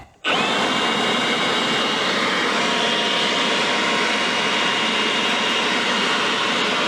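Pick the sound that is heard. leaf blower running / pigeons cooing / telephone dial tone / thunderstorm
leaf blower running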